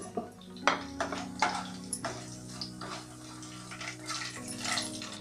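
Whole spices (cloves, cinnamon, cardamom, shahi jeera) stirred in hot oil in a pot with a spoon, giving several light scraping clinks against the metal over a steady low hum; no one talks.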